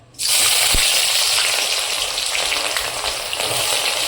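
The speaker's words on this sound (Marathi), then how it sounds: "आता तेल गरम झालंय आपलं तेल त्याच्यात ना कांदा टाकून घ्यायचा" Onion dropped into hot oil bursts into a sudden loud sizzle that holds steady and crackling, close and alone, with no talking.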